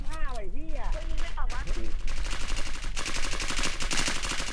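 Rapid gunfire in an online shooting game: dense, continuous loud automatic bursts beginning about a second in and running to the end, under tonal game effects and a player's voice.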